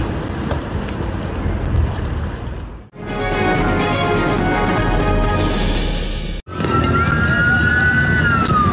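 Colombian police sirens wail loudly in the street during a protest, rising and falling over traffic noise and crowd commotion, with abrupt cuts between scenes.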